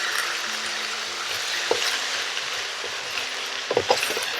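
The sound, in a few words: cabbage stir-frying in a large pot on high heat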